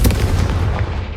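Confringo fire spell blast in Hogwarts Legacy, a loud booming burst with a rumbling tail that fades over about a second, no voices.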